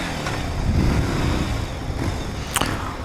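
A 1993 Yamaha Virago 250 cruiser motorcycle engine runs steadily nearby, a low continuous rumble with a brief sharper blip near the end, no talking over it.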